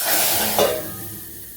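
A short burst of sizzling hiss rises as hot tempering hits the dal, then settles into a fading steamy crackle.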